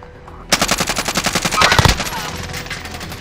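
Automatic gunfire in Call of Duty: Modern Warfare cracks out as one loud, rapid burst of evenly spaced shots lasting a few seconds, with a heavier blast in the middle and a faint voice nearby.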